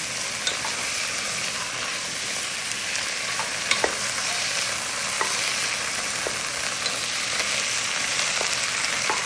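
Onion and garlic sauté in hot oil in a pan, a steady close sizzle with scattered clicks and scrapes from a utensil stirring throughout.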